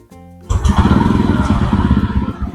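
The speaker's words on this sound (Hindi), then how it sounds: "यहाँ से मोटरसाइकिल स्टार्ट हो गई?" A 2025 TVS Ronin motorcycle engine cranks briefly, then fires and settles into a loud, close, pulsing idle with a steady rhythmic thump that runs on alone.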